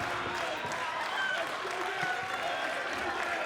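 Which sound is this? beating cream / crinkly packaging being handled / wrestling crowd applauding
wrestling crowd applauding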